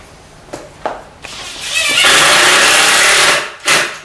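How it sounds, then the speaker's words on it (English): A power drill drives screws to fix male clips onto a cabinet base, with a few short clicks first, then a sustained whirring run of about two seconds and a brief final burst, close and loud. "We're going to go ahead and screw those in with two screws."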